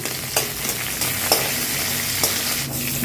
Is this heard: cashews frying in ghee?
yes